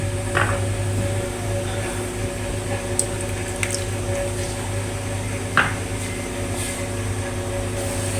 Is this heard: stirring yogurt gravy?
yes